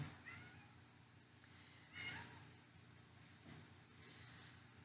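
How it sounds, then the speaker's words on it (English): A domestic cat meows faintly a couple of times, the clearest call near the middle, over a low steady indoor hum. "That's one of my cats."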